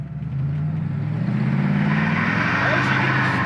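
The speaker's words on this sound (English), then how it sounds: "I'll just put it in drive and go." A 1967 Ford Mustang coupe pulls away in drive, its engine a steady low rumble that rises slightly in pitch as it gathers speed, close and continuous, with faint talk mixed in.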